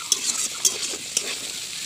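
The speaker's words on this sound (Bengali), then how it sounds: "এখানে যে করলা আলু দিয়ে ভাজা হচ্ছে" Bitter gourd and potatoes fry in a pan with a steady hiss, broken by a few short bright scrapes of a utensil stirring against the metal.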